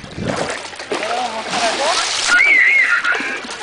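A splash at a backyard swimming pool as someone jumps in, heard among excited voices and calls that run through the whole moment.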